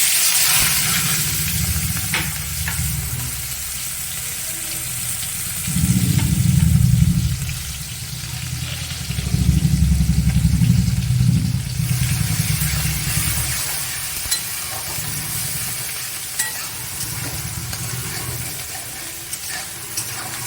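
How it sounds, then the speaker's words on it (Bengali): Onions frying in oil left over from frying fish, a loud continuous sizzle with bursts of heavy stirring and scraping in the pan. "এবার আমি ওই মাছের তেলের মধ্যে পেঁয়াজ দিয়ে দেবো।"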